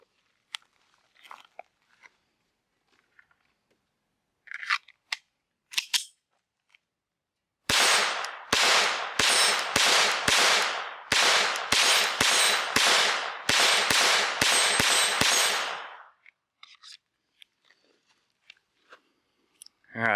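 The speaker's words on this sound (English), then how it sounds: "So I'm gonna shoot a couple rounds through this thing and see how it shoots" An FN 502 Tactical .22lr pistol fires a quick string of about a dozen sharp, loud shots in steady rhythm, with quiet handling clicks before and after.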